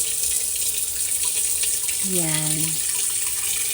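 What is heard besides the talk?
water running into a saucepan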